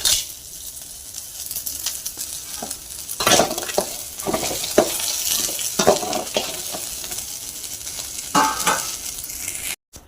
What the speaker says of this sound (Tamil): வாழைக்கடலை விட்டு நல்லா வதக்கிக்கிறோம் தேவையான அளவு உப்பு